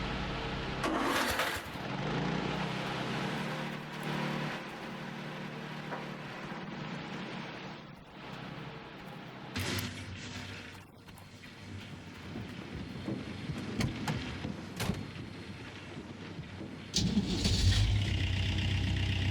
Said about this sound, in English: Let's just start all the engines.